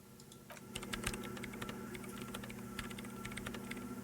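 In the video game Disco Elysium, a computer keyboard is typed on steadily, with rapid, close clicking keystrokes over a low, humming machine drone.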